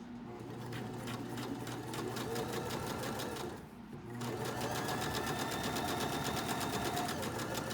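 A sewing machine runs steadily, stitching fabric for a holiday ornament at a slow pace around curves. The whirring is close and continuous, with a brief pause near the middle before the stitching resumes.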